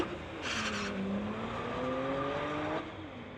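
Two BMW drag cars, a 2015 and a 2009, launch side by side at a drag strip, engines roaring loud and steady with tires squealing through heavy wheel spin before the revs climb and cut off near the end.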